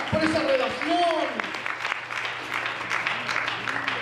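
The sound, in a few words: church congregation applause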